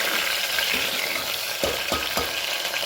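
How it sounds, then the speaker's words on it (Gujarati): Potatoes are stirred into a hot frying pan, giving a close, steady sizzle broken by a few scraping strokes of a spoon toward the end, with no voices. "મિક્સ કરી લઈએ. બટાકા નાખી દો એટલે વધારે આપણે બળી ના જાય."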